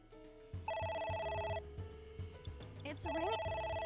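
A telephone rings in the video game AI: The Somnium Files, sounding as repeated bright electronic tones in two bursts separated by a short pause, with game sounds mixed in.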